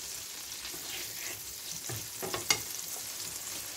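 Sixty grams of butter melt over low heat in a pan, giving a steady gentle sizzle with a few small pops and faint scrapes, close and unaccompanied by talk.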